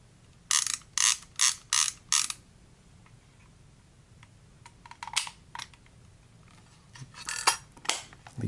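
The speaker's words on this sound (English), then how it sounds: "Leaf shutter is very springy." Leaf shutter of a Lomo Smena 35 film camera snapping open and shut, five quick crisp clicks in a row, then scattered softer mechanical clicks and cocking sounds, close and dry with no talking.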